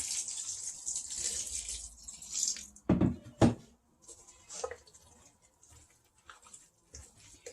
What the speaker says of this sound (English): Now, let's add the water in lieu of broth.